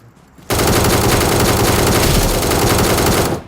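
Sustained automatic gunfire in PUBG Mobile, a loud, close, rapid unbroken burst that starts abruptly after a brief quiet moment and cuts off near the end.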